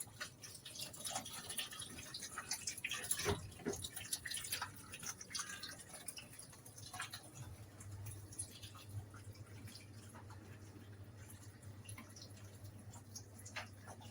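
Water keeps dripping and trickling from the domestic hot water loop of a Vaillant Eco compact boiler after the supply is shut off, with low hot water pressure. Faint, irregular drops sound over a quiet background hum.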